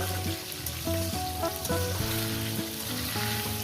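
Spice paste with turmeric frying in a pan, a steady sizzle with a faint crackle, accompanied by a layered tonal hum in the background.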